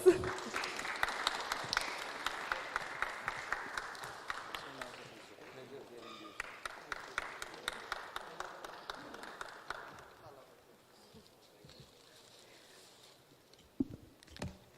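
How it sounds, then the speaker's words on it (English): Audience at a book unveiling for Dr. Shashi Tharoor bursts into steady applause that thins into a rhythmic, even-paced clapping, then fades away to near silence, with a few scattered claps and murmured voices at the end. "Can we have a round of applause?"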